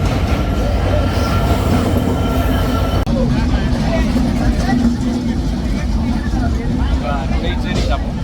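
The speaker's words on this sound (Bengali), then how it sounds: "এই তো ট্রেন আসছে।" A train pulls into a rural railway station near Atrai bridge, a loud, continuous rumble and rattle of wheels and carriages up close, with faint squeals and voices mixed under the noise.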